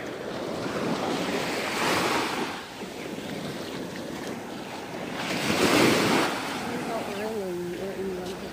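Surf washing onto a remote beach at Tung Fuk Beach in Hong Kong, a steady broad roar of breaking waves with wind noise on the microphone and a couple of swells in loudness.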